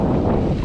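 Wind gusting at Whitehead on Belfast Lough on a breezy coastal day, a steady low rumbling buffet against the microphone with no pauses.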